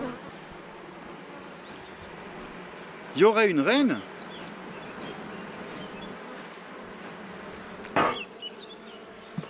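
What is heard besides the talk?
honeybees buzzing loudly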